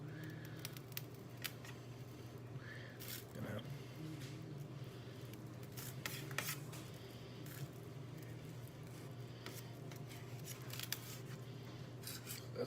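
Knife cutting a slice against the grain, a soft squishing, rubbing cut heard close over a steady low hum, with faint talk in the background.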